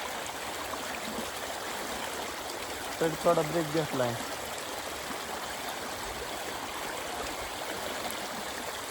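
A stream swollen by heavy rain flows steadily, a soft continuous rushing and trickling heard from nearby, with someone speaking briefly midway over the water.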